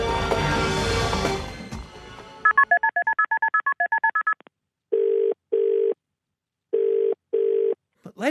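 Touch-tone telephone dialing with a quick run of DTMF beeps, then paired dial or ringback tones repeating, leading into a call to a guest on a skeptics' podcast; music plays before the dialing.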